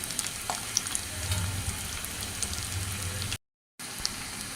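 Chopped garlic and a little cumin frying in mustard oil in a pan for Eid beef korma: a steady, close crackling sizzle that cuts out briefly, then resumes.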